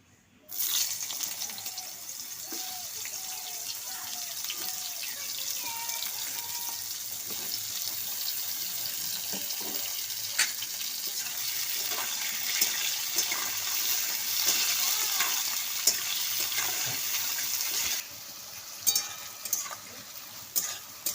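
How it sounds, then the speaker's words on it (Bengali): Ridge gourd hitting hot oil seasoned with cumin seeds gives a steady, loud sizzle and crackle of frying that runs nearly unbroken throughout, with faint clinks on top and no voices. "এবার আমি তেলের মধ্যে দিয়ে দিচ্ছি ঝিঙে"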